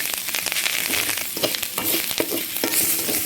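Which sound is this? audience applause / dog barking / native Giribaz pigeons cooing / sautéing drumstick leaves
sautéing drumstick leaves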